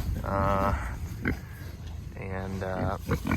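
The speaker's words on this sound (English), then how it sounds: "And these pigs are looking good." Berkshire pigs in a clover and alfalfa pasture give a few close, nasal grunts and short squealy oinks in two bursts, with quieter snuffling between them.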